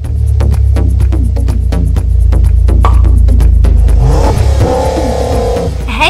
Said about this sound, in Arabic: يا إلهي، ما هذا الصوت القوي للموتير؟